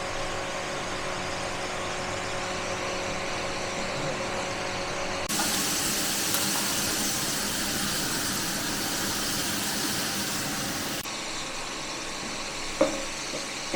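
Thick-cut potato stick chips for curry chips frying in hot oil, a steady, dense sizzle that holds throughout and swells louder in the middle before settling back.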